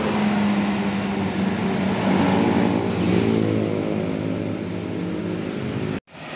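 A Sugeng Rahayu express bus on the Surabaya–Jogja–Bandung route rumbles into Purabaya terminal, its steady low engine drone loud and close for about six seconds before cutting off abruptly.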